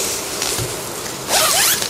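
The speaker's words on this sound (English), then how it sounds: "you've got a YKK zip. You open this up and you can" A YKK zip on a padded belt sleeve is pulled open in one raspy, close-up run lasting under a second, after quieter handling noise.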